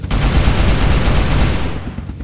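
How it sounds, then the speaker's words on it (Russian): A loud, close burst of rapid machine-gun fire in the survival game Unturned, rounds hammering in quick succession without pause before cutting off. "Сейчас вот пулемет достану."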